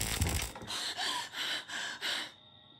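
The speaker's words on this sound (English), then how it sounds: "I hear someone breathing." Heavy, rhythmic breathing in Friday the 13th: The Game, four or five drawn-out breaths in steady succession, loud and close, with no talking.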